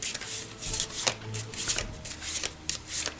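Tarot cards are shuffled close up for a dream reading, giving a run of soft riffling and flicking bursts in an uneven rhythm, with no speech.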